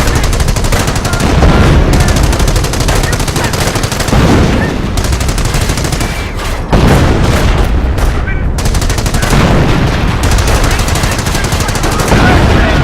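Sustained battle gunfire from the World War II strategy game Company of Heroes: dense machine-gun bursts and rifle shots with occasional booms, loud and continuous throughout, with a voice speaking under the combat.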